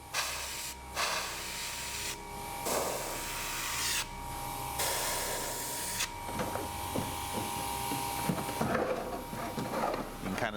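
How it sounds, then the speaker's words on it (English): Repeated bursts of airy, hissing airbrush paint spray on a dollhouse, each lasting a second or two with short pauses between, up close with faint background clatter. "Might spray underneath these a bit just to give it a little bit of"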